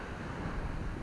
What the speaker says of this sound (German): Wir haben ganz leichten Wind.